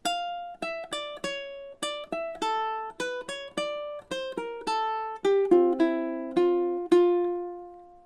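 Measures five to eight of Bach's Bourrée picked fingerstyle on ukulele: bright plucked notes in a steady, lilting rhythm, close and clear, closing on a ringing sustained note.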